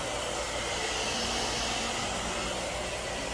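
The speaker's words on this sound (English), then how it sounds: "I'm gonna take my blow dryer thing off, have it on the cool setting. I'm gonna blow dry her scalp" Handheld blow dryer running steadily on its cool setting while drying a child's scalp, a loud continuous whooshing airflow close up, with no talking.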